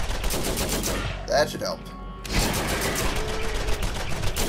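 Scorpio turret firing in Borderlands: a dense, steady stream of rapid shots, fairly loud, broken by a short lull midway, with someone talking briefly over it.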